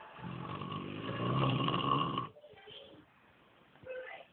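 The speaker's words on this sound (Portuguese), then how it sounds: "Eu tô nem aguentando falar porque ele ronca demais" A man snores loudly in his sleep in a bedroom, with heavy rasping snore for about two seconds, then quieter breathy sounds and a shorter snort near the end.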